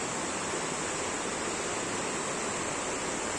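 Rushing water roars steadily below a hilltop castle in Germany, a dense, even hiss that stays constant throughout without pauses or voices.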